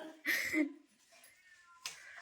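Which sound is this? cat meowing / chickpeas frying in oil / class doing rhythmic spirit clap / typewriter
cat meowing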